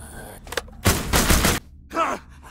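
Heavy gunfire from big guns in The Walking Dead Destinies video game: one loud, dense burst of rapid shots lasting under a second, followed by a short shout.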